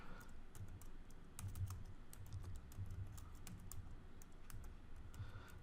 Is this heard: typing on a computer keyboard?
yes